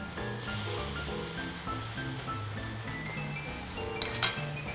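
Chopped garlic sprinkled into hot oil for sweet and sour tofu gives off a steady sizzle, a continuous frying hiss under soft background music with a brief clink of a utensil near the end.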